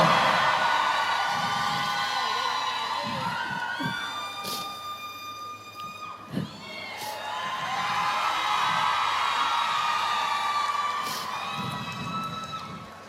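A lively crowd at a birthday celebration cheering and shouting with high whoops, sustained noise rising and falling, with some loud whistling cries over it.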